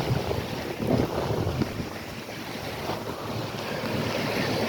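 Small calm waves wash onto a Gulf beach at Fort Myers Beach, Florida, a steady, broadband surf hiss with light wind rumble, continuous and close, with no voices.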